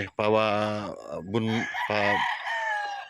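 Chickens on a hilly farm range call out in loud, close, drawn-out crowing and clucking phrases, two or three overlapping calls filling the moment with little pause.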